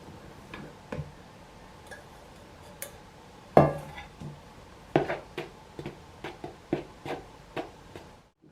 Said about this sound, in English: Using a knife, stir in the flour.